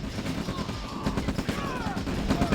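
Gunfire in the real-time strategy game Red Alert (OpenRA), a steady stream of rapid shots and impacts under a busy game mix, with a voice talking over it.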